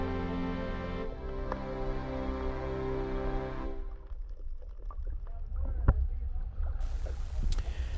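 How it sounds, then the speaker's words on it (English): Small boat on the water off Belize, a motor drone and hull wash that shift partway through, with faint water sloshing and scattered knocks close by. "Well, we've gotten back in the boat,"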